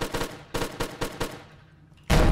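Rapid bursts of automatic gunfire ring out in a chaotic co-op shooter game, with several quick volleys and a brief pause before a sudden, louder blast at the end.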